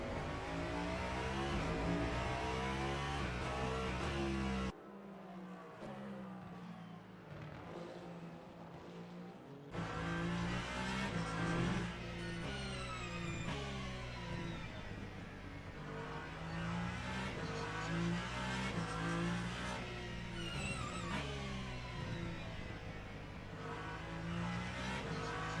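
Cadillac and Ferrari endurance race cars scream past at Fuji in a series of high-revving pass-bys with changing pitch, one quieter lull between them, heard from trackside without talk.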